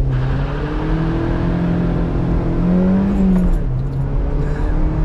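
A Mazda MX5 engine drones close by as the car cruises and accelerates, its pitch rising and falling smoothly with throttle changes in a continuous, fairly loud hum.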